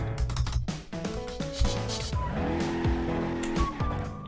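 Car engine driving in BeamNG.drive, wrong-way on the road, a continuous tonal engine note rising and sliding in pitch with tire noise and clicking sounds throughout, fairly loud and steady.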